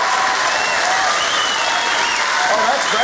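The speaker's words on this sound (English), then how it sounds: "First round of applause" Sustained audience applause at a live comedy show, a dense continuous wash of clapping from a large crowd, steady and loud throughout.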